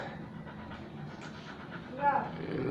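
A dog pants rapidly nearby and gives a short whimper, while a person talks quietly in the background.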